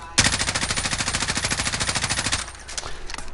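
An automatic rifle with no stock fires in the Modern Warfare video game: one long, rapid, evenly spaced burst lasting about two seconds, followed by a few scattered shots.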